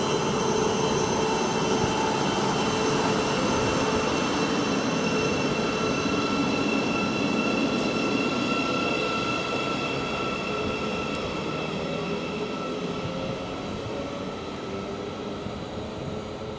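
A Bedford to Brighton passenger train pulls out of Luton Airport Parkway station, a steady broad rumble with faint humming tones that slowly fades over about sixteen seconds.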